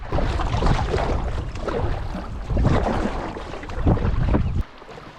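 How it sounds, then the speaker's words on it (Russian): Loud, continuous rushing water of turbulent river rapids on a taiga river in spring churns and roars steadily, surging in waves, then drops off abruptly near the end. "как на моем пути встретился бурный перекат"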